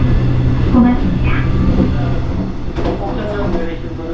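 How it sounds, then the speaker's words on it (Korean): Interior rumble of a Mugunghwa train on the Gyeongbu Line slowing into Okcheon station, a steady low rolling drone with faint clatter and brake squeals, while an onboard announcement voice speaks over it. "열차는 철거 중인 구대전남 연결선을 가로질러 옥천역에 도착합니다."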